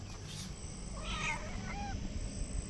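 A cat meows a few times in a rural Uttarakhand village setting, short mid-pitched calls over steady outdoor background noise with no talking.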